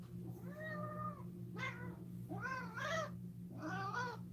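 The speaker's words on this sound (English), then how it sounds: "You could hear him go meow, meow, meow, meow." A cat lets out several drawn-out, complaining meows and yowls, close by, over a steady low hum.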